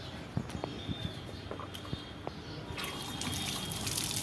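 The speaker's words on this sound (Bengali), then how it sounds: "আর আমি এগুলো ধুয়ে নিই অল্প, কারণ এগুলো তো পুকুর থেকে তুলে আনা হয়েছে।" Lotus stems freshly pulled from a pond being rinsed in water, with soft trickling and dripping splashes that grow a little busier and brighter toward the end, close by and with no talk.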